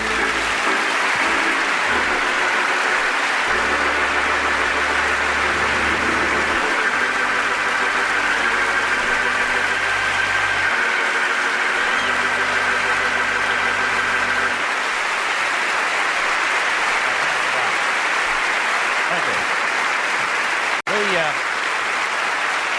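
Large theater audience applauding at a live comedy radio show at Carnegie Hall, loud sustained clapping with a soft organ chord underneath, fading after about fifteen seconds into quieter room noise and a few faint sounds.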